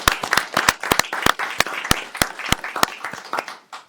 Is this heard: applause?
yes